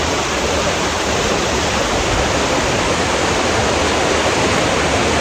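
A mountain stream rushes over rocks on a trekking trail, a loud, dense and constant roar of water that fills the whole stretch without pause.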